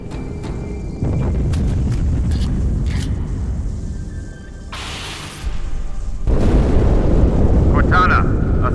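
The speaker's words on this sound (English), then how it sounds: "That explosion came from inside the Athens, same as the Malta." Explosions from inside a ship on Caro Station in a Halo 2 campaign, heard as loud booming blasts with rumbling roars and a hissing burst, surging in several waves.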